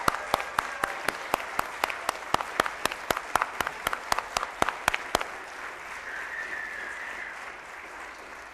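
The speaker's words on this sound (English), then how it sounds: "So let's give a round of applause and kick things off." Applause at a NASDAQ stock market opening ceremony, a sharp rhythmic run of evenly spaced loud claps for about five seconds, then fading into softer room murmur with a faint sustained tone.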